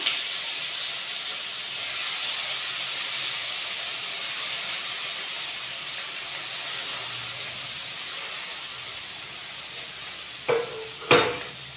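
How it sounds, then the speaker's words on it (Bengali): A steady, hissing sizzle of onion, garlic and tomato frying in a hot pan, with two sharp clanks of a utensil near the end. "দিয়ে দেবো পেঁয়াজ, রসুন, টমেটো সব একসাথে দিয়ে দিলাম।"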